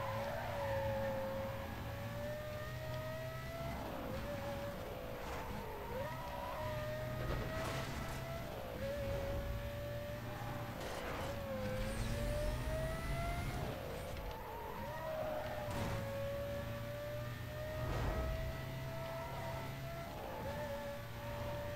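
Race car engines in the video game Need For Speed Most Wanted, a sustained whining engine note rising through gears and dropping at each shift, repeated several times, with occasional thumps and tire noise under it.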